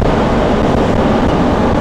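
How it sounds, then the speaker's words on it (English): A V8 454 engine in a 1997 Safari Trek Pathmaker 2480 motorhome runs with a loud, steady low rumble and no exhaust leak, a continuous drone heard close up without talk. "As you can hear, the engine doesn't have any exhaust leak anymore."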